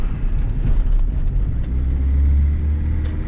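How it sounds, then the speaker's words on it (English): A 2.2-liter Chevrolet S10 pickup engine runs with a deep, steady intake rumble and low droning hum, heard up close and continuous with no talking. "So yeah, you can hear the intake."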